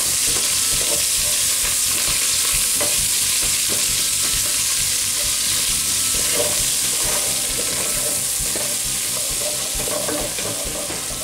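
Cabbage and onion frying over medium heat in a pan, a steady dense sizzle with occasional stirring scrapes running continuously and fairly loud, with no voices.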